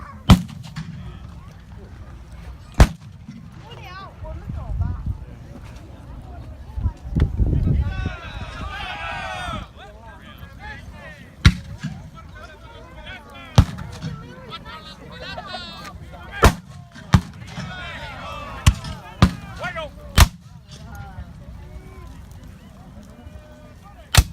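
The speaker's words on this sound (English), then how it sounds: "Yeah, but you're still hearing a gunshot" Scattered sharp gunshots from carbines and muskets at the Battle of San Jacinto reenactment crack out one at a time across a long stretch, some near and loud, with a deeper booming cannon blast and people talking throughout.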